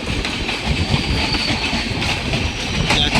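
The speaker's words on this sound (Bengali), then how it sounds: "দামোদর থেকে সাঁতরাগাছি অন্তদা এক্সপ্রেস, এটা আমাদের সাউথ ইস্টার্ন রেলওয়ের মধ্যে পড়ে, সাঁতরাগাছি জংশন রেলওয়ে স্টেশন" Antoda Express rolling past Santragachi Junction on the South Eastern Railway, a loud, close, continuous rush of wheels and carriages with steady rattling clatter throughout.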